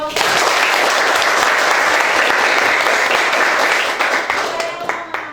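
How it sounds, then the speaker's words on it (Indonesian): Audience members clap together after a group presentation in a classroom, a dense, loud burst of applause that holds steady and then thins out toward the end. "Oke, kita berikan aplaus."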